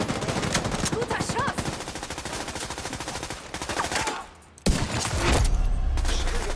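Rapid bursts of automatic gunfire in the video game The Division 2 rattle loudly and nearly continuously, briefly dropping away before another loud shot and the firing resumes.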